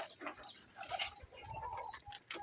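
Soft, low pigeon coos from close by, mixed with faint pecking taps and other quiet bird sounds.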